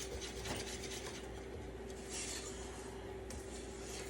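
Flour being whisked by hand into a batter, a steady scraping, rubbing rasp of the whisk against the bowl that runs continuously and fairly quietly, with no talking.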